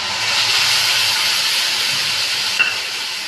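A steady, loud sizzle and hiss of frying: a spice paste of mustard, poppy seed, garlic and green chilli cooks with fried potatoes and onions, close up and continuous, with no talking.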